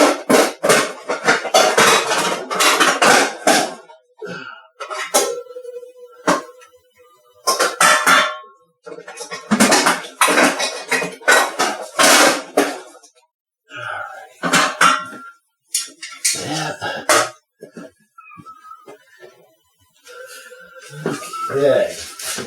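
Metal baking pans clatter and clank in a home kitchen during orange creamsicle cookie baking, with short bursts of handling noise scattered among a person's frequent talking.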